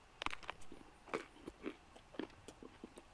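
Crusty, crunchy bread chewed close up with a mouthful of cheese, giving a series of irregular crisp crunches and bites over about three seconds, fairly quiet, with no talking.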